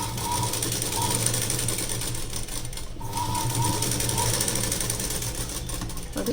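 A sewing machine runs steadily, stitching blouse fabric with a continuous close mechanical whir and needle clatter. There is a brief slowdown near the middle, and no one speaks.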